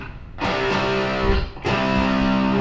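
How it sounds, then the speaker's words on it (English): Electric guitar power chord played through amp or pedal distortion, struck twice: a loud, sustained, buzzing chord rings for over a second, then is restruck and held, with no talking. "When you add a little distortion from an amp or a pedal"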